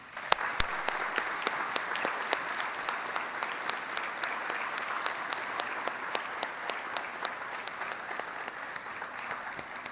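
A crowd at an armed services awards ceremony applauds steadily for several seconds, dense clapping with sharp individual claps standing out, no voices.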